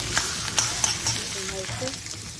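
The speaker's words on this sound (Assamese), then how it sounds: "মাছৰ তেলখিনি ভাজিছোঁ." Fish frying in hot oil in a home kitchen, a steady close sizzle with scattered crackles and pops across the whole stretch, a faint voice now and then in the background.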